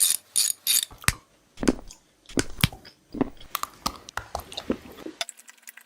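Loud, close crunching and snapping bites into a giant chocolate tool, irregular cracks and chewing in quick bursts, with a short pause between early bites and denser crunching toward the end.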